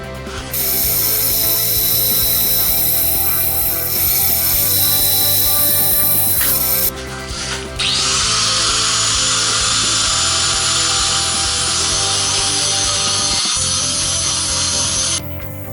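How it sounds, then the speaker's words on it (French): A band saw whines loudly and steadily through metal for an electric drift-trike frame, with a grinding mechanical rattle underneath and a brief pause midway before cutting resumes. "Ensuite je vais pouvoir aller à la scie à ruban et découper ça."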